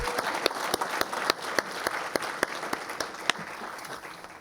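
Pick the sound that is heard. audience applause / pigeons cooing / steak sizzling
audience applause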